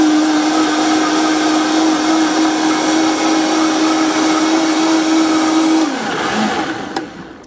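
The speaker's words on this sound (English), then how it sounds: "We're going to blend so it heats." Vitamix blender running loud and steady on high, blending vegetables into hot soup, a constant roaring whir that dips in pitch near the end as the load shifts.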